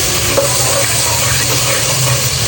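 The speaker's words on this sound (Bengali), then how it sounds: "এটাকে ভালো করে নাড়িয়ে নেব।" A spoon stirs a spice paste of ginger-garlic paste, fried cumin powder, turmeric, chili and salt in a pan for a beef liver curry, giving a steady close-up scraping sizzle that continues without a break.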